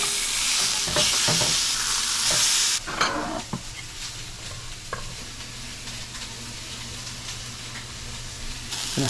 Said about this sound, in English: I'm gonna flip the salmon.